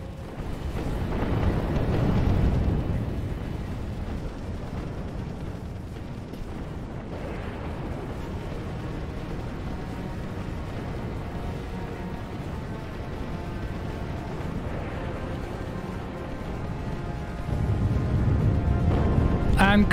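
A capital ship factory blows up in Sins of a Solar Empire: Rebellion, a deep rumbling boom swelling early, then a sustained roar of space-battle fire with a second heavy surge near the end, under excited commentary.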